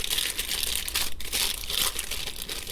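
Plastic packaging crinkling and crumpling as toy playset furniture is unwrapped, close and continuous rustling with a few sharper crackles and no talk.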